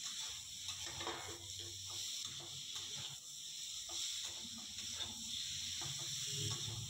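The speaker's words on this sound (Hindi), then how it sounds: "और हम इसको स्लो फ्लेम पे आराम से फ्राई करते हैं।" Potato and parwal frying in a pan over a slow flame, a steady soft sizzle and crackle running evenly throughout, close and moderately quiet, with no voices over it.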